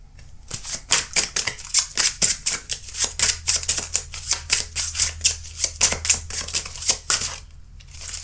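Silver Thread Connection oracle cards shuffled by hand in a quick, steady run of crisp riffling flicks and slaps, close and fairly loud with no talking.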